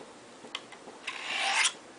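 A Tanto knife blade is drawn along a Spyderco Sharpmaker ceramic rod, giving a couple of light scraping ticks and then one longer rising rasping stroke that ends abruptly, close and clear with no voices.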